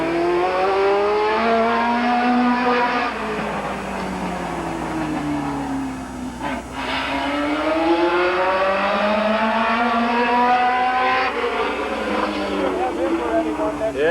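Race cars run qualifying laps at Midvale Speedway in 1988, engines droning and rising and falling in pitch as they circle the track, with a track announcer talking over the noise.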